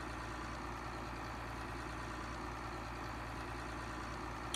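A steady low engine idle from a 4960 tractor in Farming Simulator 19, a constant droning hum holding even throughout with no change in pitch or load.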